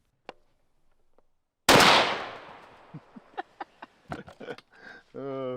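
A single loud, sharp .50 caliber rifle gunshot bursts out on a ranch and rings off into a long decaying echo, followed by brief voices and a few short knocks.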